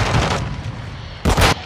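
Video game gunfire in a team shooter match, two bursts of loud rapid shots separated by a short gap, with no talk over them.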